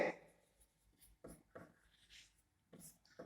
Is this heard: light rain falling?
no